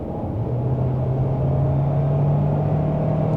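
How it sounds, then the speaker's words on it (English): A 2025 Hyundai Santa Fe hybrid in Calligraphy trim accelerates from 80 to 100 km/h on a New Zealand motorway, heard from inside the cabin as a steady low road rumble with a faint rising engine hum beneath. "Let's try 80 to 100 acceleration just to see."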